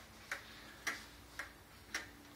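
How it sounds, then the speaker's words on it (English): An antique Cuckoo Quail clock ticks steadily, four soft, evenly spaced ticks over a quiet room hum. "Just want to make a quick video to let everyone see and hear the clock work."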